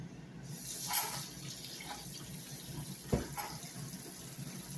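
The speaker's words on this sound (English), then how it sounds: "Wash this rub off of my hands." A kitchen sink tap runs softly while hands are rinsed under it to wash off a pork rib rub. Faint splashes and a single clunk break the steady flow.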